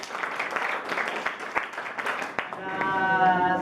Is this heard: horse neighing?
no